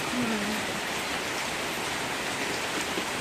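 Rain falls steadily on a rural home's fenced yard, a continuous even hiss of drops with no gaps and no talk.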